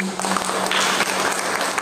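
Brief burst of audience applause at a school talk, dense clapping from a crowd heard up close for under two seconds.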